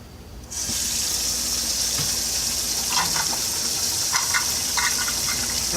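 Kitchen tap runs steadily into a measuring cup while making fry bread, a constant loud gush of water with faint clinks of the cup near the end and no talking.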